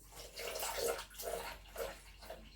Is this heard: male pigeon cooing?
no